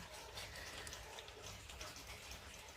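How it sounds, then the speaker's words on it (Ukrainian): Rain beginning to fall outdoors, a steady, even hiss of many drops that holds constant throughout, with no voices. "У нас знову дощ починається."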